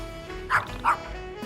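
A dog in the video game YIIK gives two quick, bright barks in a row, close and fairly loud over a low steady background hum.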